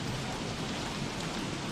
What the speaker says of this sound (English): Though I will admit this rain is sure an intense new element